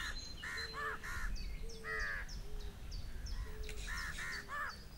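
A New Caledonian crow in forest gives a series of harsh, clear caws in short bursts, close and distinct against quiet background hiss.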